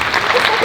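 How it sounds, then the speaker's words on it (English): Concert audience in Sacramento applauding during an onstage interview with an orchestra conductor and cellist, a dense wash of clapping filling the short moment at close, steady loudness. "That deserves a round of applause."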